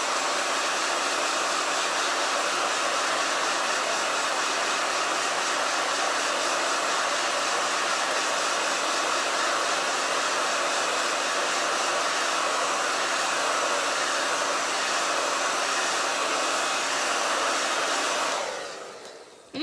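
A hair dryer blows continuously at close range, a loud steady whooshing hiss that holds for most of the run before being switched off near the end.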